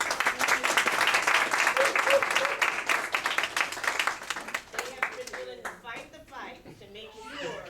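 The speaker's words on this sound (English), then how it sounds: "Let's give them a big round of applause." Audience applause at a middle school graduation ceremony, a dense crowd of clapping hands that holds steady, then thins out and fades under scattered voices and chatter toward the end.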